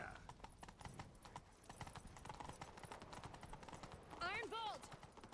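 Horse hooves clip-clop at a steady galloping rhythm in The Witcher 3, continuous throughout with a brief whinny near the end, heard under game voices.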